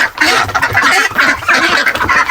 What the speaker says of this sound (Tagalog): Ito yung kasunod, yung kulungan ng Peking duck mga kaparmers. Dito yung mga Peking duck na may hina.